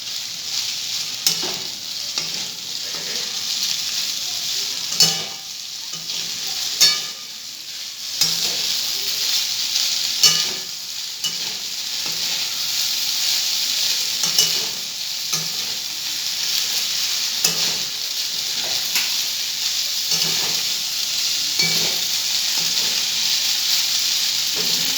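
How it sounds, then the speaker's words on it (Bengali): Food fries and sizzles in a pan with a steady, bright hiss, broken by periodic clicks and scrapes of stirring, close by and without talk. "হালকা ভাজা ভাজা করতে হবে"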